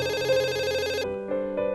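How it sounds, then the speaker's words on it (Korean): A telephone rings with an incoming call, a steady electronic ringtone warbling for about a second, then short pauses and softer repeated tones, close and clear with no talking. "딸로부터 걸려온 한 통의 전화."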